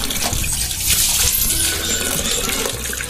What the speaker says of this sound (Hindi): हैंडल ऐसे लगाएंगे आप, तो पानी ये अवश्य निकालेगा।